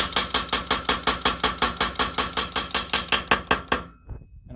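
A homemade blacksmith power hammer, built with basic tools, pounds at its lowest stroke setting in a fast, even series of loud metallic blows, then stops abruptly. No voices.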